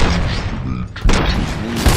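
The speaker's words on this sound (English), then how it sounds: "Gunshots?" Gunshots in the video game RoboCop: Rogue City, a few heavy booming shots and impacts against loud, busy game sound, with a short break between bursts.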